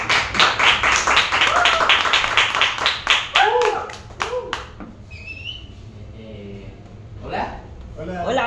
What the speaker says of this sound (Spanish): reciban con un muy fuerte aplauso